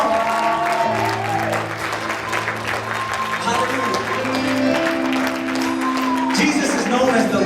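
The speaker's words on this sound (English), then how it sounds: "give Him a clap offering" Church congregation applauding together during a midweek worship service, a sustained wash of clapping with some cheering under sustained music tones and voices throughout.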